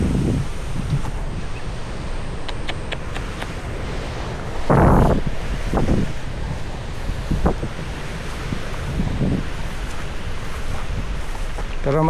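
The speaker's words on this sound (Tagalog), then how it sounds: "Sobrang lakas ng hangin." Very strong typhoon wind roars steadily outdoors in a garden, a broad constant rush with gusty surges and microphone buffeting, plus brief rustles and knocks throughout.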